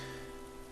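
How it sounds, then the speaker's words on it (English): Rain falls in the video game Animal Crossing: New Horizons, a soft, even patter under a faint sustained musical hum, quiet and brief. "It is raining, so that's nice."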